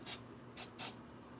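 Three short hissing bursts from a spray can of glue activator, close and quiet, the first two spaced apart and the last coming soon after, over a faint background hum.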